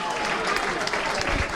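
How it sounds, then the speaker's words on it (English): Football crowd at a Dulwich Hamlet v Enfield Town play-off match applauding players as they leave the pitch: a broad wash of clapping and crowd noise from the stands, with a voice talking over it. "Cargbo also receiving a lot of applause"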